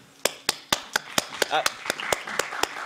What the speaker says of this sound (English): the first of many claps we'll have today